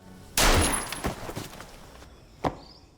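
A pistol gunshot in a film, one loud close crack with a lingering tail, followed by a couple of softer thuds and a smaller sharp report a second later.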